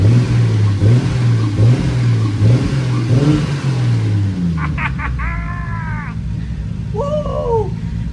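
A car engine revs through several rising and falling pulls, then settles into a steady idle after a sensor fix, heard close and loud; crows caw in the background near the end.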